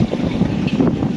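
Steady wind buffets the microphone with a low, rumbling roar, continuous and close, with no other sounds standing out.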